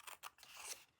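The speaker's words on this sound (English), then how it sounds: "So I'm going to take my scissors," Scissors make a few quick, close snips while trimming a small square of paper for a handmade stamped Christmas paper craft, followed by a short sliding cut. The snips are soft and crisp in a quiet room.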